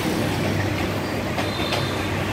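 A train rumbles steadily past through a residential neighborhood in Hanoi on the line to Sapa, a continuous loud roar of wheels and carriages close by with faint metallic squeaks.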